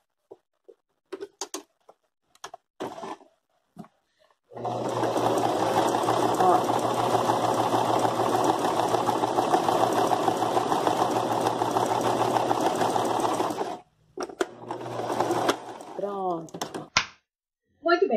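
A domestic sewing machine backstitches along a zipper in a long, fast, steady run of rapid stitching that starts and stops abruptly. Short clicks and handling noises come before and after it, and someone talks in the gaps.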